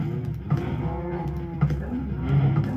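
Cows in the Minecraft video game moo repeatedly, several overlapping low calls from a crowded herd, fairly loud and close with no talking.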